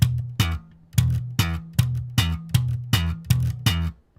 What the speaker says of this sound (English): The popping and slapping sound